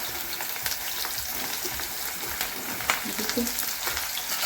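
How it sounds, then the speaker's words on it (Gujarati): Stuffed okra frying in oil over mustard seeds and cumin for Gujarati bharela bhinda shaak, a close, busy sizzle with crackles, stirring scrapes and a few clinks of a spoon throughout. "પછી આપણે તેમાં ભીંડો તળી નાખીશું"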